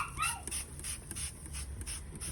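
A puppy whimpers and yips in high, wavering cries near the start, then quieter panting and soft whines continue over low background rumble at an outdoor barbecue.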